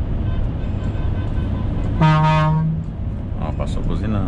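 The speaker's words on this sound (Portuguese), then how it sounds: "Ó, passou buzinando aí." A passing car on the road sounds a loud horn blast of nearly a second, set against steady traffic and engine rumble, with a voice speaking briefly near the end.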